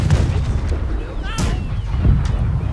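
Ship cannons fire a broadside during a naval battle in the pirate game Blackwake. Heavy booming blasts come in quick succession, loud and close, with voices talking amid the gunfire.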